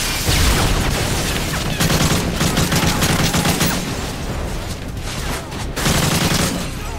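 Dense, loud gunfire from Call of Duty: Modern Warfare 3, with rapid overlapping shots and bursts filling the whole stretch in a busy combat fusillade.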